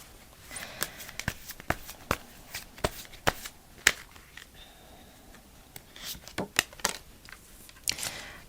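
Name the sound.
shuffling tarot cards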